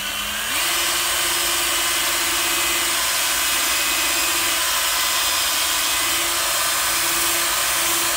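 A Ryobi 18V right angle drill with a buffing pad spins up and runs at a loud, steady whine while polishing out paint scratches, holding its pitch close by with no speech.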